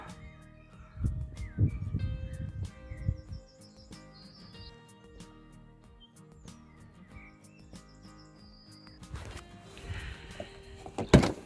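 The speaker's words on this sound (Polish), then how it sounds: "Posłuchajcie, jak ptaszki śpiewają." Birds chirp and call in short scattered phrases at a river bank, faint to moderate, with some low rustling and handling noise, one louder burst near the start and another thump near the end.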